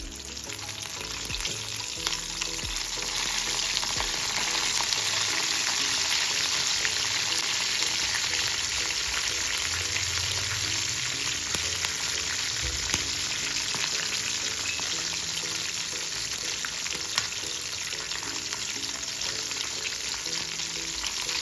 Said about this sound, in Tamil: மீனெல்லாம் நல்லா குக் ஆயிடுச்சு, நல்லா ஃப்ரை ஆயிடுச்சு